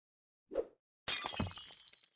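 A glass case around a statue smashes in the horror game Shelley Manor: a short thump, then a sharp crash of shattering glass with a ringing tail of falling shards.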